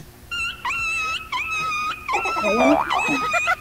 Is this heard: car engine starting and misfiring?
no